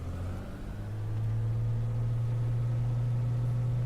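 A light aircraft's engine in a flight simulator steadily rises to full throttle, settling into a loud, constant droning hum alone with no talk.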